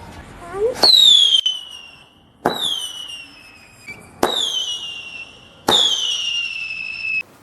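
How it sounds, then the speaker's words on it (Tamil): A firework fountain that shoots up and then crackles, heard as four sharp whooshing bursts with shrill descending whistles, each followed by a brief decaying crackle, loud and close. "இது ஃபர்ஸ்ட் வந்து ஃபவுண்டர் மாதிரி வரும் வந்துட்டு கிராக்கிங் சவுண்டு கேட்கும்"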